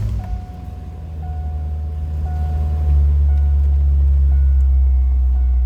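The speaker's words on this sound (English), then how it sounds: "Let's go ahead and fire it up so you can hear it run." A 2003 Chevrolet Corvette convertible, 50th Anniversary edition, idles after starting, a steady low engine rumble that swells and holds firm, close by and alone.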